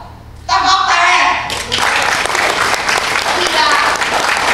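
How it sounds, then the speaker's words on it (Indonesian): Crowd applause bursts in loud and sustained after a brief quieter moment, with voices shouting and talking through it at a political gathering in Indonesia. "Tepuk tangan."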